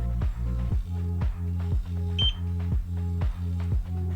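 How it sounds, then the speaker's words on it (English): Homemade continuity tester alarm beeping over a spotty contact, a rapid train of roughly eight loud, evenly pulsed tones with short gaps, heard alone with no talking. "device beeps constantly because the contact is spotty"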